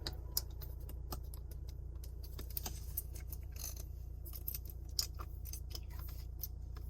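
Option buttons on the dashboard of a used car being pressed one after another, giving light, irregular plastic clicks over a steady low cabin hum, with no talking.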